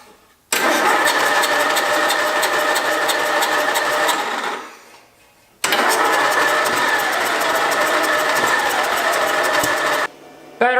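A Craftsman lawn mower engine cranks in two long, loud, steady bursts separated by a short pause, each ending without the engine settling into an idle; no talking.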